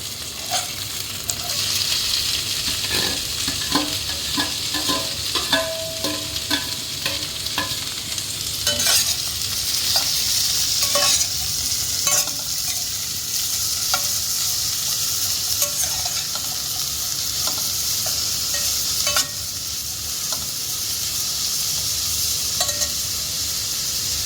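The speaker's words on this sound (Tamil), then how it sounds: "இதில் இப்போ மீடியம் சைஸில் 3 ஆனியன் ஸ்லைஸ் பண்ணி வச்சுருக்கேன், அதை ஆட் பண்ணிடலாம்." Three medium sliced onions sizzle and fry in a hot pan for poori masala, with a spatula stirring and scraping in steady repeated strokes, close and continuous with no talking.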